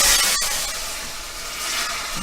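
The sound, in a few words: steam cooking mussels in covered pan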